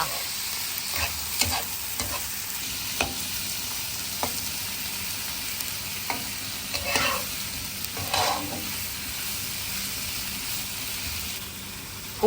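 Sida tomatoes being stir-fried in a pan for sausage spaghetti give a soft, steady sizzle, with scattered scrapes and taps of a spatula across the pan over a fairly quiet background.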